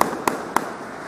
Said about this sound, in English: Sound like you're dry firing, dude. That's how that gun sounds.